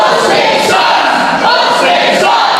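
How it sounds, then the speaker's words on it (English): A wrestling crowd in Shepway at a Heatwave Havoc show shouts and jeers loudly at Austin Archies, a dense, sustained roar of many voices with no pause. "The crowd here in Shepway letting Austin know how they feel."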